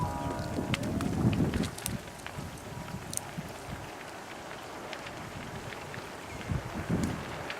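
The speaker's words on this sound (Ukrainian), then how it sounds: "Сильний порив вітру" A strong gust of wind blows outdoors near a fire behind a market, rumbling loudly into the microphone in two buffeting surges at the start and end with a softer rushing wash between, and no clear talk.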